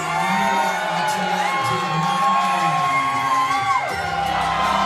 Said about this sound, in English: JR Miller having fun, antagonizing the crowd.